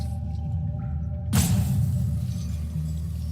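A sharp digital crack for a Lightning Strike card effect in a card video game, with a burst of crackling noise that suddenly cuts over a quiet low hum and settles into a rumbling tail.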